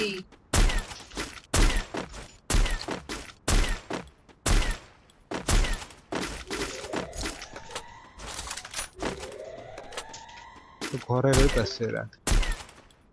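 A shooting video game fires loud, close bursts of gunfire in rapid volleys, separated by brief gaps filled with whooshing and electronic effects, and a player's voice breaks in now and then.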